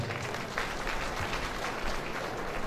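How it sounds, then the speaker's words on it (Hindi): An audience at a Sahu community oath-taking ceremony in Abhanpur claps loudly and steadily, a dense wash of applause filling the hall without pause. "जोरदार ताली के साथ आप मन के सम्मान करत हैं"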